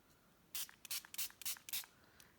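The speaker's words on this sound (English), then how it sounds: "I'm going to spritz this heart" A spray bottle of rubbing alcohol spritzes a paper heart in a run of about six short, close hissing bursts with brief gaps between them.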